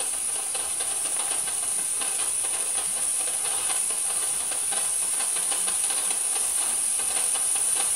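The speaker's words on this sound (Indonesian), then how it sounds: "Oke, uap sudah keluar." A steam iron hisses steadily, a continuous bright jet of steam released while pressing curtains, with no talking over it.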